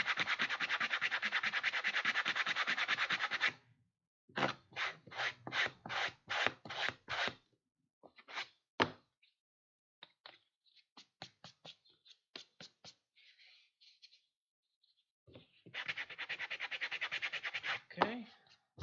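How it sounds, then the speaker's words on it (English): An axe is sanded smooth by hand: close, faint rasping strokes, first a long continuous rub, then a run of quick back-and-forth scrapes, scattered short strokes, and a final steady stretch of rubbing. "Now, of course, this part needs to be sanded as well."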